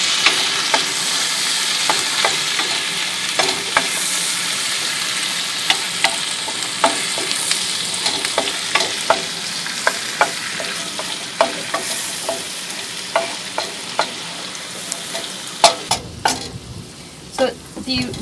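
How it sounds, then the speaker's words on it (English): Garlic and ginger stir-fry in butter in a sailboat galley, a close, continuous sizzle broken by regular sharp taps and scrapes of a wooden spoon against the pan, growing busier toward the end. "Start stir frying them a little bit."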